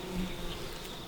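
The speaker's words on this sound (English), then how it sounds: "that's one wasp that can't get into the hive" A wasp buzzes in a steady, close drone at a beehive entrance, a continuous insect hum with slight wavering throughout the brief moment.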